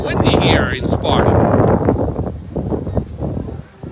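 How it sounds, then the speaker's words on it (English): Steady wind buffets the microphone in low rumbling gusts at a youth football game in Sparta, with people talking over it throughout. "It's getting windy here in Sparta."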